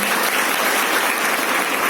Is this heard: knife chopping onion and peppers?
no